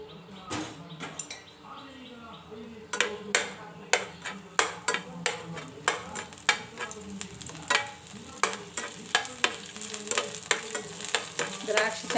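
Raisins fry in a pan for mandakki huggi, a soft sizzle under sharp, repeated clinks and scrapes of a spoon stirring against the metal, with a voice speaking over the cooking.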